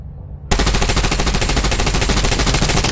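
Sustained loud automatic gunfire at a shooting range in The Division Resurgence, a dense rapid stream of shots bursting in abruptly after a quiet half second and continuing unbroken to the end.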